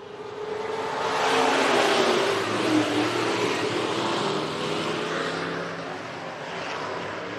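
Dirt-track race cars roar at full throttle at Phillips County Raceway, engines loud and sustained as they blast out of a turn to lead with five laps left, a continuous near rumble without talk.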